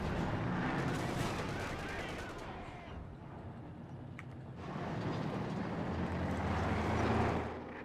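Anti-tank pack gun fire and explosions in a WWII strategy video game match, a dense, loud barrage of booming shots and blasts that eases briefly midway before swelling again.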